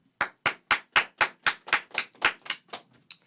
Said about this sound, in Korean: 짝짝짝 박수치라고 박수해 빨리.